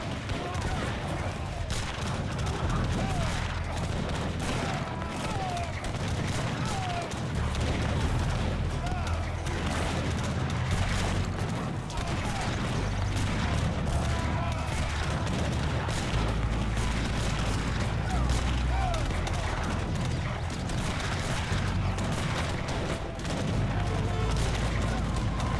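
Artillery booms and crackling musket volleys from an Age of Empires 3 recreation of the Battle of Austerlitz roll on continuously as a dense, steady battle din, with someone narrating over it.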